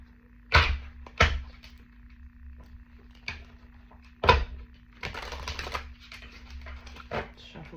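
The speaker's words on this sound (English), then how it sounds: "shuffle these a couple times." Several sharp papery slaps and riffles of tarot cards being shuffled, close by and uneven in rhythm, with a denser riffling burst toward the end.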